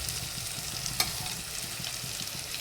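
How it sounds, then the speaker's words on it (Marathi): Potatoes sautéed in spices for masale bhat: an even, close sizzle under steady stirring, with one sharp clink of the utensil against the pan. "चला आता परतून घेऊया आपण. बटाटा टाकून घ्यायचा आपल्याला."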